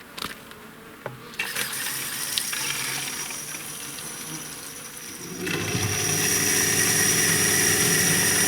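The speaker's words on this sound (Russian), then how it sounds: "А сейчас поставили здесь колонку, можно набрать воды." Water gushes from a pump installed at an old spring in a forest, a steady hiss that grows louder and fuller partway through over a background insect-like buzz.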